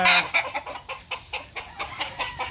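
Chappy, a gamefowl rooster, makes a run of loud, close, clipped clucks and squawks, about eight short bursts in an uneven rhythm, starting with a sharper call, with no voices.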